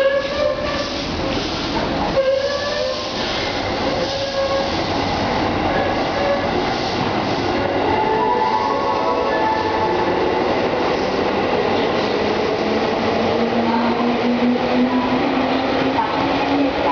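A JR 211 series local train pulls out of Hon-Chiba station, a steady rumble of wheels and motors rising in pitch as it gathers speed, with faint squeals and rail clatter throughout.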